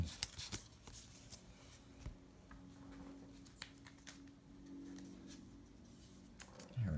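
Pokemon cards are slid into protective sleeves, giving soft, close, scattered scraping and tapping sounds with a brief card rustle near the end.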